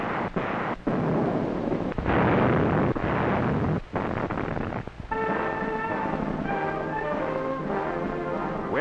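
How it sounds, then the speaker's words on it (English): A devastating Canadian and British artillery barrage in Normandy, 1944, booms in heavy rumbling blasts with sharp cracks, followed by stirring orchestral music in an old newsreel soundtrack. "Early in July, Canadians and British launched the devastating barrage"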